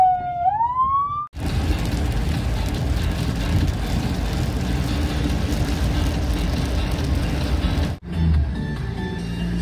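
Ambulance siren sounding steadily and loudly from inside the vehicle while it drives from Cho Gao hospital to Tien Giang General Hospital, broken by two brief cutouts, with a rising wail at the start.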